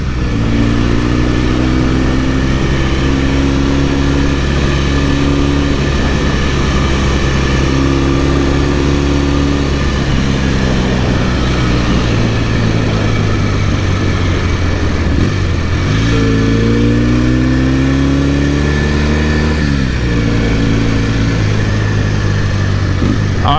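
A Norton Commando 750 motorcycle engine on a Peak District ride, a loud, close, continuous drone that holds steady, then rises and falls through gear changes and acceleration, with wind rushing underneath.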